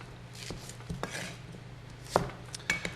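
A knife chopping onion on a board in a restaurant kitchen: a few quiet, irregular taps and scrapes with light clatter, no voices.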